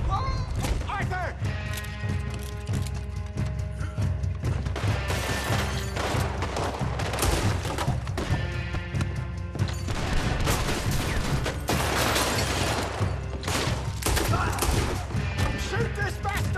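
A loud Red Dead Redemption 2 gunfight: sharp gunshots and volleys crack repeatedly over a constant din of action, with shouting voices mixed into the chaos.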